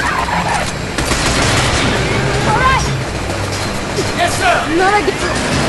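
Rapid gunfire in Binary Domain, bursts of shots crackling over a busy combat din while someone talks over much of it.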